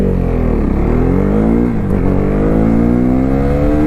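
A first-generation KTM Duke 390 motorcycle accelerates hard through the gears, its engine note rising loudly and steadily with a brief dip at a shift, recorded close up.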